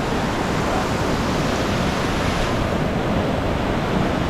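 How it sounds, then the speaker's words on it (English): Vernal Falls in Yosemite roars as a loud, steady wash of falling water heard from a bridge on the trail, a broad, unbroken rushing sound with no voices. "That's waterfalls up here."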